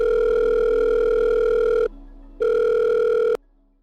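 A telephone ringback tone sounds twice, a steady electronic tone with a short gap between the two rings, then cuts off.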